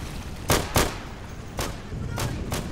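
A grenade and battlefield blasts go off in the WWII shooter Day of Infamy. Five sharp, punchy bangs land in irregular pairs over a rumbling combat background, close and loud.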